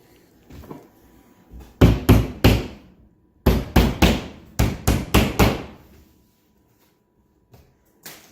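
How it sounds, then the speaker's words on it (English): A hammer taps a finish nail into trim while closing in a wall opening for a large flat-screen TV, a loud cluster of three sharp blows, a pause, then a quicker run of about seven strikes and one last tap alone. "Just tapping in the finished nail that we're holding"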